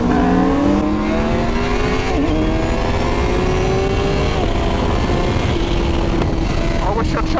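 Honda Fireblade SP superbike engine revving hard under a launch and accelerating, rising harmonic whine climbing steadily through gears, loud and close, with a brief shift dip near two seconds and steady onboard wind roar.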